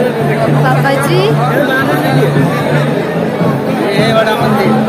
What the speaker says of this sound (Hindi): चारों तरफ भीड़ ही भीड़